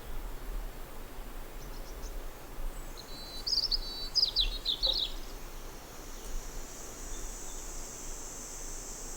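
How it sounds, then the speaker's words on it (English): A few short, high bird chirps sound midway over a quiet, steady outdoor background hum. "So we got birds chirping."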